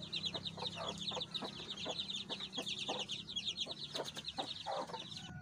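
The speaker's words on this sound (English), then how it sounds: "we have a hen." A hen clucks in quick, repeated bursts, faint and close, with a few sharp higher calls over a quiet background.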